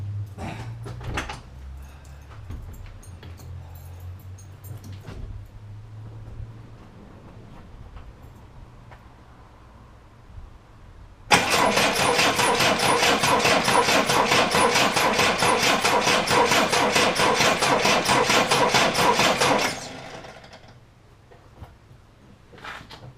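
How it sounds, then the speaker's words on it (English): A 1972 Triumph Dolomite engine is turned over with low, rhythmic cranking, then catches and runs loudly and steadily for about eight seconds before shutting off, close by with no talk. "I'll spin it over where I can see voltmeter,"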